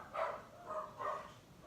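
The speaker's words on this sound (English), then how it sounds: "I do love it when my dogs start barking" Pet dogs bark indoors, three muffled barks in a row at a moderate distance, fairly quiet with no talk over them.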